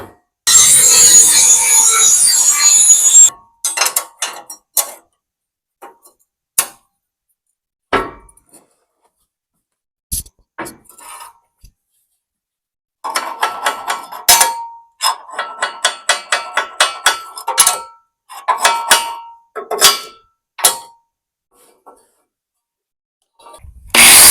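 Repeated hammer blows on steel while fabricating a gooseneck hitch, some single strikes and some quick runs of taps, loud and close, with a grinding burst at the start.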